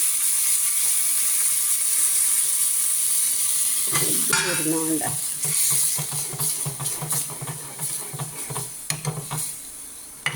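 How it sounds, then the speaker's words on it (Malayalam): Mustard seeds splutter and sizzle in hot oil in a home kitchen, a steady frying hiss with sharp popping crackles and clatter of a utensil, plus a brief spoken word partway through. "കടുക് പൊട്ടുമ്പോൾ നമുക്ക് നമ്മുടെ തൈര് ഉടച്ച് വെച്ചേക്കുന്ന അങ്ങോട്ട് ഒഴിക്കാം."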